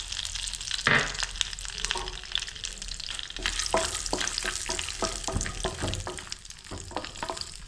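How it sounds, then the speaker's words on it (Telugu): Cashews frying in hot ghee in a pan for Andhra-style boondi laddu, steady sizzling and crackling with occasional stirring clinks, close and continuous, no talking. "కొంచెం నెయ్యి వేసుకుందామా. జీడిపప్పు వేసుకుందాం."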